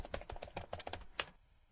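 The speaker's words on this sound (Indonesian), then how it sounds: "Oke, mengetik resep obat." Keyboard typing as a medicine prescription is entered in a video game, a quick run of about a dozen close, crisp key clicks in an uneven rhythm, then silence, with no talking.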